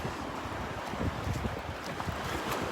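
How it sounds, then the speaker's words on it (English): Wind gusts across a Gulf beach at Delnor-Wiggins on a chilly January morning, a steady rough rush buffeting the microphone with surf mixed in, loud and continuous, with no talking. "that wind is nippy"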